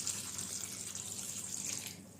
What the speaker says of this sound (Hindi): 1 कप उतना पानी डाल दीजिए।